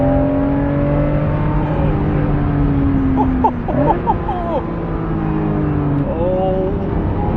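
Acura NSX engine droning steadily from inside the cabin, with sustained harmonic tones that shift in pitch as it drives, and a person exclaiming briefly over it midway.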